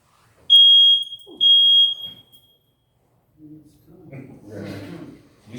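A smoke detector in a city council meeting room gives two loud, shrill electronic chirps close together. Its low-battery warning is followed by quieter murmuring and talking from the people at the meeting.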